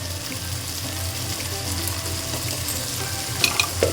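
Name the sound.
ginger garlic paste frying and sizzling in a pan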